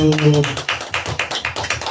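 Group applause for a graduating student at a Sunday youth church service: steady, rhythmic clapping in even beats, close and fairly loud, after a brief voice at the start.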